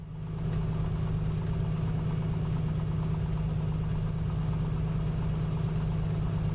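A small general aviation plane's engine idling while taxiing in Microsoft Flight Simulator 2024, a steady low droning hum with a constant vibrating throb, close and unbroken, with no talking.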